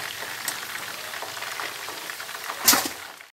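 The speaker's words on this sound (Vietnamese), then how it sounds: "Bây giờ mình vớt ra mình chiên tiếp rồi cả nhà" Potatoes deep frying in hot oil for a second crisping pass, a steady dense crackle and hiss throughout with a brief louder burst of sizzling near the end.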